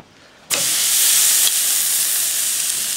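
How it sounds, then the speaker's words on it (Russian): After a moment of quiet, a thin machete steak hits a hot frying pan and a loud, bright sizzle bursts up, then keeps hissing steadily. "Жариться он будет очень быстро, потому что мясо тонкое."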